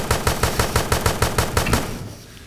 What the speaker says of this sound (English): we should be hearing a lot of gunfire going on around the room